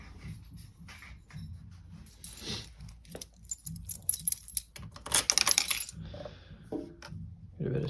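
A motorcycle rider's bunch of keys jangles and clinks in the hand in a workshop, scattered metallic rattles building to a busy burst, close by.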